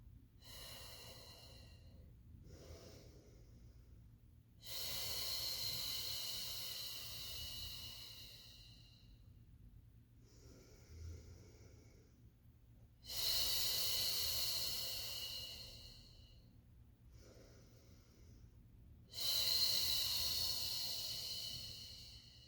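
Breathing during a Pilates mat class: three long, hissing exhales separated by quieter inhales, close and soft, in a slow steady rhythm.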